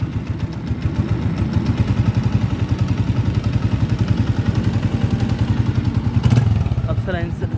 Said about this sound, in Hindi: पहले इंजन का साउंड सुनाते हैं।